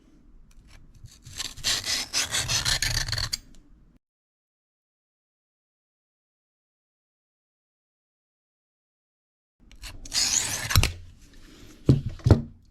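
Steel knife blade stroked back and forth across a Kitanis diamond sharpening plate, a dense run of rasping strokes, then a long silent gap, then another burst of close scraping strokes.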